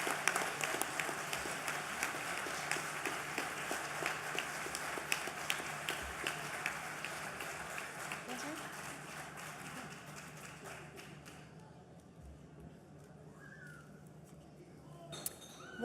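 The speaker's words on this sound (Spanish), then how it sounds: "Un aplauso para ellos." A crowd at an outdoor Asturias Day political rally claps in sustained applause for speakers being introduced, moderately distant and gradually thinning out toward the end.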